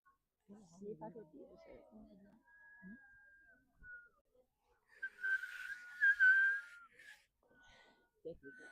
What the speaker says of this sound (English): You're going to be engaging the Sarata Kumbhaka, where you're going to be whistling while you inhale.